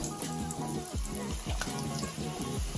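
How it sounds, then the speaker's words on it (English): Drumstick pieces deep fry in hot oil in a kadai, a steady bubbling sizzle heard up close, with repeated low thumps and a faint tonal hum underneath, and no talking. "we have taken the oil for deep frying the drumsticks"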